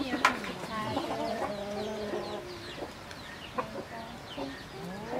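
A rooster crows and clucks close by on a rural Thai farm among other chickens, with repeated crowing calls rising over a steady background of farmyard noise.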